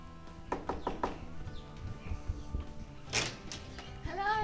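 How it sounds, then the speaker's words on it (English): Someone knocks on a house door, a quick run of four sharp raps up close, followed by quieter shuffling and a brief voice. "let's knock on the door and say hello"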